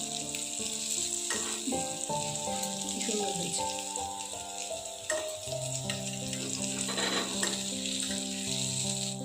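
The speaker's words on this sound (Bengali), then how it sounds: "ঠিক এইভাবেই প্রতিটা ঢোকা আমি ভেজে নেব" Lentil cakes for a Bengali yam dhoka recipe fry in hot oil with a steady, close sizzle throughout, along with occasional light clinks and stirring.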